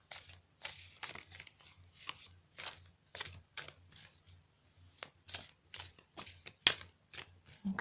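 Tarot cards are shuffled in quick repeated riffles and slaps, a crisp papery rhythm of short bursts close to the microphone with no speech.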